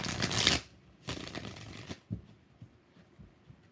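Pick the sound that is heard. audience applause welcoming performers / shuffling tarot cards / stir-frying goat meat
shuffling tarot cards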